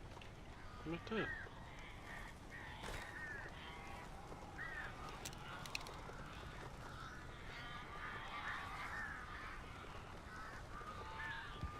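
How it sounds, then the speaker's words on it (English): Crows caw repeatedly in the video game Alan Wake, short harsh calls scattered across a steady ambient background, moderately close, with voices speaking at times. "These birds are weird."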